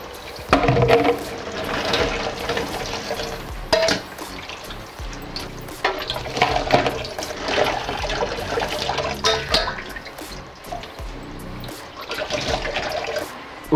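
Running water rinses a crab in a sink, a steady full gush of tap water with splashing and shifting flow throughout, fairly loud and continuous with no talk.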